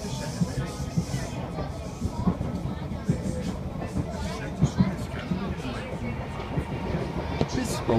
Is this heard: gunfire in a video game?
no